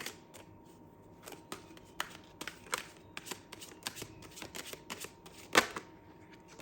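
Tarot cards being shuffled by hand, a rapid run of crisp riffling slaps and flicks at close range with one louder snap near the end, no voices.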